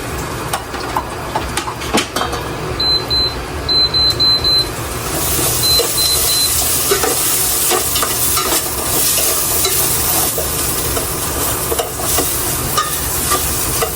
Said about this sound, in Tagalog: mag-start na po si Kuyang mag-gisa. Ilalagay na po niya yung sibuyas tsaka luya.